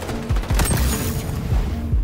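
Gunfire in the online shooter XDefiant: a rapid burst of sharp, booming shots in quick succession, several evenly spaced reports heard up close and fairly loud.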